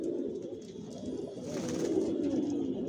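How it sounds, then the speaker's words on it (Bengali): Foreign racing pigeons coo softly and continuously at close range, with low rolling calls layered over one another and no talking. "আর এগুলো সব বিদেশি কবুতর"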